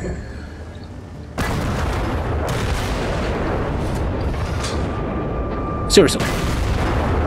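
A Soviet IS-4 heavy tank in World of Tanks takes repeated high-explosive anti-tank shell impacts, heard as a sudden loud boom that settles into a sustained rumble with a sharp metallic crack near the end, under a man's speech.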